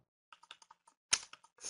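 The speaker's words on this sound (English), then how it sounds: "Excuse that clicking sound as I go down the list" Computer mouse clicks and keyboard taps while scrolling through a list: a quiet run of short, close clicks at an uneven pace, with a louder click midway and a brief rustle at the end.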